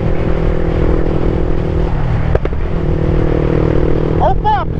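Yamaha Fazer 250 motorcycle at top speed in fifth gear, a steady loud engine drone held throughout, with a brief break near the middle and a few rising revs at the end; a voice may be present in the background.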